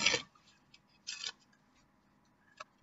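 A deck of playing cards is cut and shuffled close up in a quiet room, giving three short, crisp riffling bursts separated by brief pauses.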